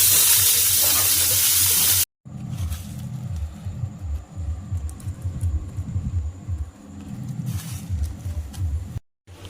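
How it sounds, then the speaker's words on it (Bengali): Soaked chickpeas frying in a pan, a close, continuous crackling sizzle with rhythmic stirring scrapes, after a short burst of broadband hiss at the start and brief gaps of silence. "ছোলাটা ভেজে নিচ্ছি।"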